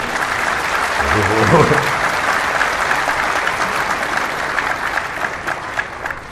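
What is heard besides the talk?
audience applause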